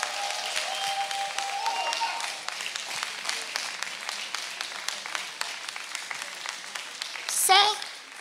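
A church congregation breaks into sustained applause. Dense clapping fills the room steadily for several seconds, with a faint tonal voice or music line mixed underneath.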